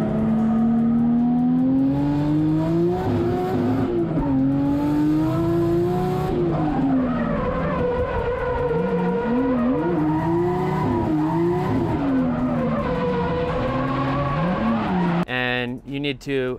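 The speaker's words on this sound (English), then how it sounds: "Another cool use for the handbrake is," A car drifts on a track using the handbrake, with a loud engine that revs up and down under long, wavering tire squeals, someone talking over it, and a brief burst of sharper noise at the end.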